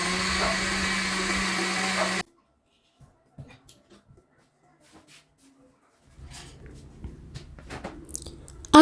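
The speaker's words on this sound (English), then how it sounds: "you put the ginger in the blender and you add water to it" A kitchen blender whirs steadily on ginger and water for about two seconds, then cuts off abruptly, leaving near silence and then faint handling noises.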